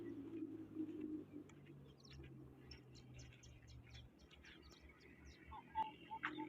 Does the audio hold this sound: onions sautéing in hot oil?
no